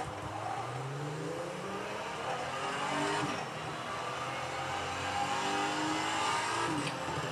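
Car engine in a racing video game played on a Logitech Driving Force GT wheel, revving and rising and falling in pitch through gear changes as the car accelerates during a lap, steady and moderately quiet with no talk.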